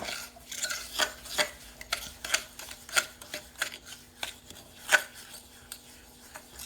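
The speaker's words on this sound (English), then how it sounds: "we're just going to go ahead and mix that sugar and that butter together." A sturdy fork mixes sugar and butter together for banana bread, giving a quick series of soft scraping and clicking strokes against a bowl at an uneven, busy rhythm, close and fairly quiet with no talking.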